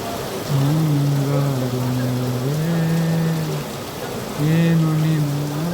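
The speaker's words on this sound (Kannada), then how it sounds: "ಮಳೆ ಎಷ್ಟು ಜೋರಾಗಿ ಬರ್ತದೆ ಅಂತ. ನೋಡ್ಬೋದು ಈ ಥರ ಎಷ್ಟು ಜೋರಾಗಿ ಬರ್ತದೆ" Heavy monsoon rain pours down in a constant dense hiss, while a voice talks and hums over it at intervals.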